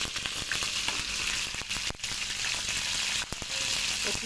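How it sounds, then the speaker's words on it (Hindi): Chicken stirred and fried in a pan for an okra chicken curry, a loud, constant sizzle broken by a few sharp clatters from stirring. "अब चिकन को अच्छे तरीके से हमने इसके अंदर मिक्स कर देना है।"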